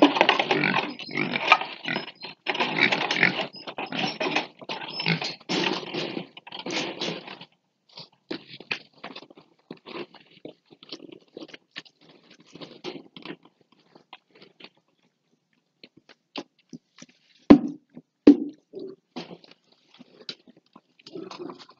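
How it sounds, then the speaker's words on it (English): Pigs eating at feeding time on a farm, with dense crunching and chewing at first, then sparser bites, snuffles and occasional grunts close by, and one sharp knock near the end. "I'm gonna go ahead and go feed the pigs now."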